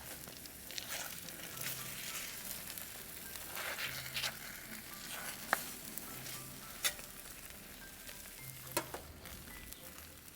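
Eggs sizzle and crackle steadily in a hot frying pan, a continuous close frying hiss with occasional sharper pops and faint scraping.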